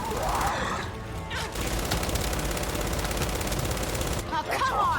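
Rapid automatic gunfire rattles continuously in the co-op shooter game Gears of War 5, dense bursts of crackling shots with sharp impacts near the beginning and end, while a player talks over the action.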